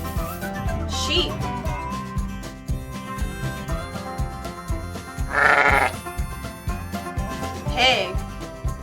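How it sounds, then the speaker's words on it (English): Sheep bleating on a farm in a children's animal-sounds lesson, several drawn-out bleats spaced apart over a steady, upbeat music backing. "Sheep."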